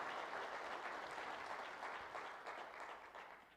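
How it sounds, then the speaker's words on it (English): Audience at a city State of the City address applauds firefighters with a dense, even wash of clapping that holds steady and then tapers off, heard from some distance at a soft level. "let's give our firefighters a big round of applause"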